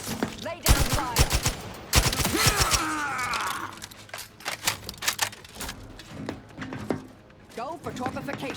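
Gunfire in the video game Outer Worlds 2, rapid bursts of shots in several volleys, with game character voices speaking over the fighting.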